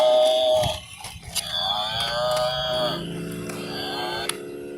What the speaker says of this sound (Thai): ควายสีน้ำเงินบัฟฟาโล